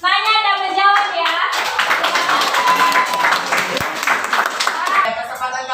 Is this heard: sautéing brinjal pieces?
no